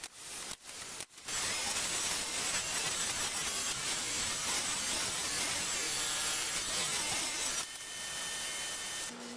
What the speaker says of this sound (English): I've got a 1/4 inch plywood. I'm going to cut a back for the cabinet.